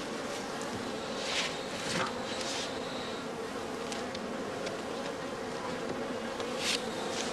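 Honey bees buzz steadily around heather skeps in an autumn apiary, a dense continuous drone with individual insects swelling louder as they pass close to the microphone.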